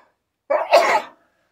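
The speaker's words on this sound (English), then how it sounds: "Oh, I'm gonna sneeze." A single sneeze, close and fairly loud, bursting out after a short intake of breath and ending abruptly, with silence before and after; an allergy sufferer sneezing indoors.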